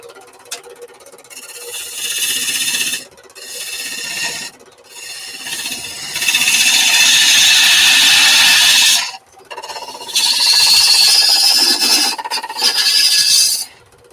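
Wood turning on a lathe with the tool rasping and scraping against the spinning workpiece, loud and close, coming in long bursts separated by short pauses.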